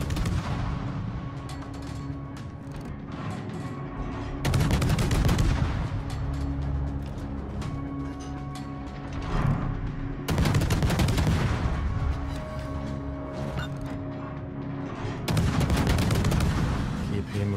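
A US cruiser's main guns fire in a naval battle game, heavy booming salvos that come in repeated loud volleys over a continuous background of game sound.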